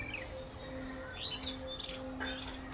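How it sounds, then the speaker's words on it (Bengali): Birds chirp and tweet among tall trees in a tea garden, with several short calls scattered over steady outdoor ambience and a faint insect hum beneath. "চারিদিকে পাখির কিচিরমিচির আওয়াজ।"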